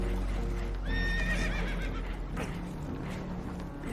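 Spooked horses in Red Dead Redemption 2 let out a loud, close whinny with a shaky rising and falling pitch, over constant rumbling water and boat noise, with scattered clopping and thuds around it.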